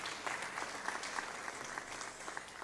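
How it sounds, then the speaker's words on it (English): Conference attendees at the African Creators Conference 2025 clap for a speaker, a faint, distant patter of scattered handclaps with no talking. "Please a round of applause for him."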